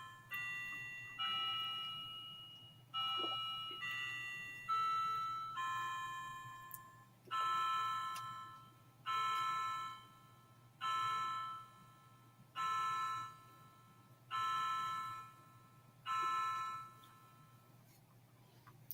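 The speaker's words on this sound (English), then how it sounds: "Let's count the chimes." A clock chiming the hour at five o'clock in a home setting: a melodic run of bell tones followed by five evenly spaced resonant strikes, each ringing out and decaying before the next, clear and fairly close over a low background hum.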